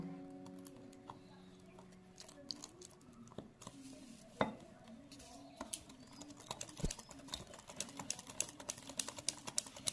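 Milk is stirred little by little into fruit cake batter in a bowl, making quiet, irregular clicks, taps and light scraping close by in an otherwise calm kitchen.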